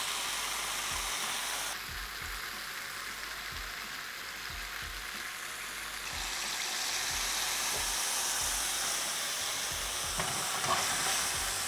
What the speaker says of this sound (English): It's going to be a fair old sizzle in this.